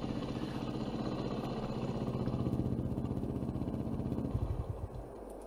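A vehicle engine in Farming Simulator 22 runs at a steady, faint idle, a low throbbing rumble that holds for several seconds and settles slightly toward the end.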